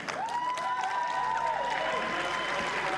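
Spectators applaud at a women's tennis match at the Hobart International, a steady wash of clapping from a crowd that fills the stretch evenly, with no voices on top.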